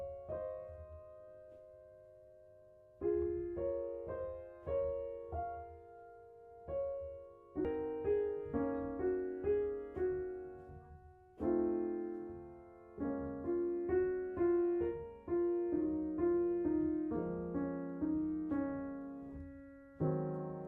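Soft pianissimo piano phrase from Clair de Lune, built up in layers, with sustained chords and gentle melodic notes entering in slow, separated groups, quiet and close, with no talking.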